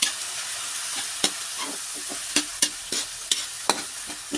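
Ground pork frying with soy sauce and salted black beans, stirred in a pan: a steady close sizzle broken by a series of sharp scraping clacks from the utensil at an uneven rhythm, with no talk.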